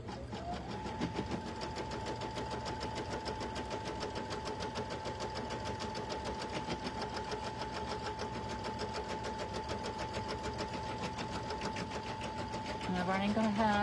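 An embroidery machine stitches a tack-down line to hold vinyl in place, working in contrast thread with a steady, fast, even mechanical pulsing that runs throughout and grows slightly louder near the end.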